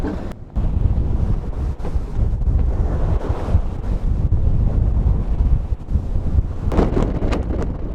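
Steady, roaring wind gusting into the high 20s buffets the microphone aboard a sailing yacht at sea, with waves sloshing beneath it and a few stronger gusts near the end; no voices.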